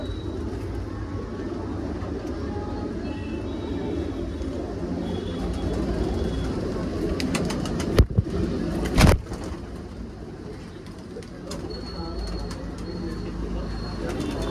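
Pigeons offered for sale, Punjabi breeds, coo softly beneath a steady broadband outdoor hum, with a couple of sharp clicks partway through.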